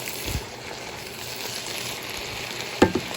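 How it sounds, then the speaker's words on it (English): Peppers frying in olive oil in a pan, stirred now and then: a steady soft sizzle with a couple of brief scraping clatters of the utensil against the pan near the end. "And now I'm stirring it so that it doesn't stick to the bottom of the pan."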